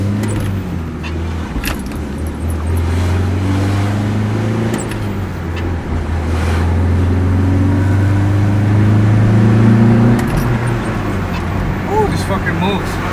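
A Nissan 240 accelerating hard, its engine note rising through the gears in a loud, close, sustained drone with key jangling rattles inside the car and people talking over it.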